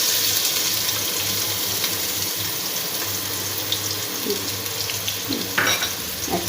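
Onion sizzles in hot oil in a saucepan while vegetable khichuri is cooked, a steady dense crackle and hiss filling the clip with a few louder spits near the end.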